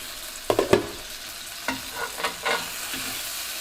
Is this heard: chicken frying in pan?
yes